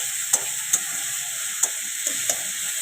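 Spices for a rohu fish curry fry in hot oil, a steady close sizzle broken by a few sharp pops and ticks, with no voices.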